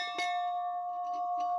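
An old 14-inch cast school bell rings once with a clear metallic strike, then hums on in a steady, sustained tone. A few soft knocks and rustles sound in the background as it decays.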